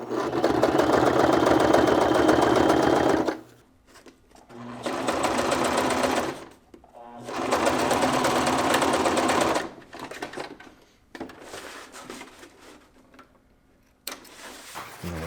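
Sewing machine stitching a front stretch pocket seam with a 3/8 inch allowance, a fast buzzing run in several bursts separated by short pauses, close and steady, with faint handling noise between runs.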